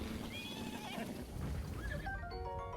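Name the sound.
horse neighing in Zelda Breath of the Wild video game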